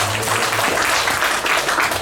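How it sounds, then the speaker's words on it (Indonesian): A congregation at a church worship service claps, a loud, close, noisy wash of hands lasting about two seconds with a low hum underneath. "Tepuk tangan bagi Allah"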